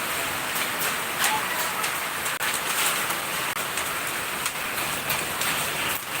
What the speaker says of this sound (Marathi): गारा पडतात गारा दिसतात त्या बर्फावर अरे इकडे हो ना पत्र्यावरती हो दिसतात गारा पडतात गारा